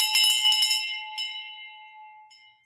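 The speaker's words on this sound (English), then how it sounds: "Victory bell for you." A single victory bell rings out loud and bright, its clear metallic tone struck once more and left to decay slowly into silence.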